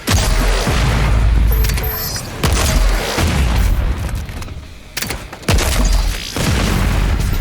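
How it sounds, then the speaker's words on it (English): Booming shotgun blasts and grenade-round explosions from a first-person shooter game, fired in quick bursts of loud, heavy reports with short gaps, several sustained volleys like full-auto fire over about seven seconds. "The shot sound is dramatic yet short, which gives a very crisp feel and works very well in full auto mode"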